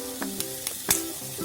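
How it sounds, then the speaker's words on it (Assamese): Fiddlehead ferns frying in a pan, with a soft, steady sizzle broken by a few crisp pops and spatters, close by and moderately loud, with faint tonal background music. "মই এনেদৰে ঢেকীয়াখিনি 5 মিনিটমান সময় ভাজি ৰাখিছোঁ"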